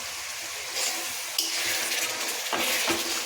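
A spoon stirs prawn malaikari in a pan, giving soft scraping and wet sloshing over a steady sizzle, with a couple of brief clinks against the pan near the end.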